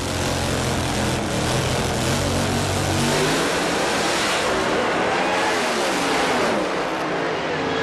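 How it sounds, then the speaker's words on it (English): Pro Stock drag race cars accelerate hard down the strip at the 2001 IHRA AC Delco Nationals in Richmond, a loud, continuous roar of engines that stays strong throughout and eases slightly near the end. "Mark Thomas pulls away with the horsepower."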